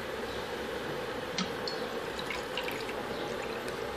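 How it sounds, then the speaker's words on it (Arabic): Two measures of water poured onto sugar in a cooking pot to make syrup, a steady close liquid pouring hiss with a few small splashes and drips, no voices. "نوضعو السكر، نضيفو عليه زوج كيلات من الماء"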